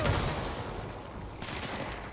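Explosions and gunfire in the action video game Control, a dense, continuous roar of booming blasts and crackling shots filling the whole stretch with no pause.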